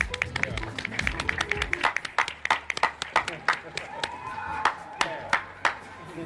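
A small audience claps in sharp, uneven bursts, the separate hand claps close and distinct rather than blending into a roar, while people talk underneath.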